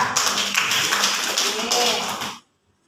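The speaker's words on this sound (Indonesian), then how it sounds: "Tepuk tangan juga untuk Baika." A classroom group claps for a student during a lesson, a brief burst of quick hand claps mixed with talk, ending abruptly in silence.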